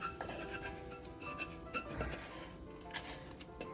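Fried chile pieces scooped out of a pan, with light metallic clinks and scrapes of utensil against pan in an irregular rhythm, close and fairly quiet, with no talk.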